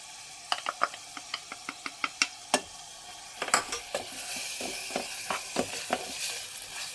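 Fried onions, cooked until brown, sizzle steadily in a pan as spices go in. A spatula scrapes and taps in a quick run of sharp clicks, then the frying swells louder and hissier. Close and clear, with no talking.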